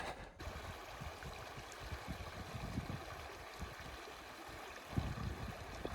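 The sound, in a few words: calm stream water at a Sierra ford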